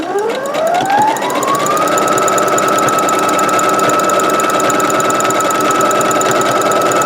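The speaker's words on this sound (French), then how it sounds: "Allez, on coud le premier côté, on n'oublie pas, marche avant," Sewing machine stitching the first side of a fabric snood, a steady, loud continuous motor whir that ramps up in pitch at the start and then runs evenly without pause.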